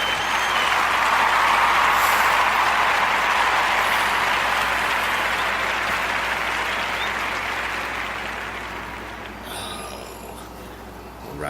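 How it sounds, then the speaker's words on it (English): A round of applause for servicemen opens a podcast show, a broad, loud wash of clapping that slowly fades over several seconds before a brief clatter near the end. "the round of applause for servicemen"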